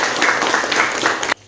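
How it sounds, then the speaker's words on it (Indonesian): Classroom students clapping their hands together, a short burst of brisk, dense clapping that stops abruptly. "Tepuk tangan."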